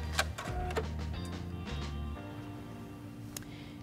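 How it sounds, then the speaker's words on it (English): A Heavy Duty 6800C sewing machine's thread cutter button trims the thread, making a short run of mechanical clicks and a whirring motor, then a quieter hum with one late tick. "I'm going to cut the thread with my thread cutter button"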